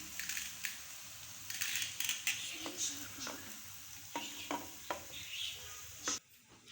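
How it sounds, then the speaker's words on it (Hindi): A spatula scrapes and pushes dry okra and onion sabzi out of a hot pan, making repeated soft scraping strokes with light sizzling underneath, close but faint. "अब माँ जी इसको डिश आउट करेंगी।"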